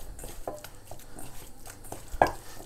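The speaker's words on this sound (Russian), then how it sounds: "перемешиваем все нашу начинку" Burger patty filling of minced meat with mustard, salt and pepper is mixed by hand in a bowl, giving soft, irregular squelching and patting sounds with a few sharper clicks against the bowl, close and moderately quiet.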